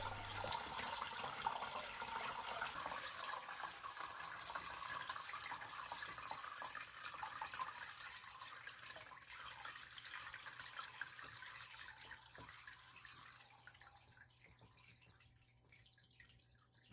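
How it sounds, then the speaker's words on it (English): Water poured back into a home fish tank, a steady continuous splashing and trickling that runs close and fairly loud, tapering off toward the end with no talk. "Now we're just going to pour all the water back in."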